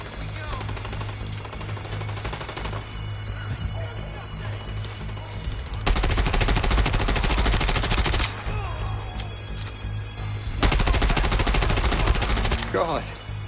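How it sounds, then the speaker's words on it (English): Sustained automatic gunfire in a shootout in The Division Resurgence mobile game, loud bursts of rapid shots continuing across the clip with heavier volleys in the middle and near the end. "Halt! Or we'll shoot! Not if we shoot you first"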